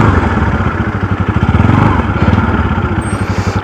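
A motorcycle engine idling and chugging while the bike is parked, a loud, close, rhythmic thumping pulse with a slight rise in revs midway.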